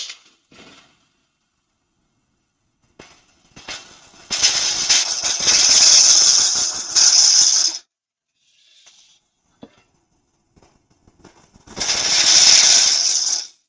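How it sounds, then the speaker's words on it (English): A half-inch bowl gouge roughing green chestnut on a wood lathe, with two loud sustained bursts of harsh, rattling cutting noise separated by quiet gaps and a few faint knocks. "let's get 1/2 inch bowl gouge just to get some rough shape on this"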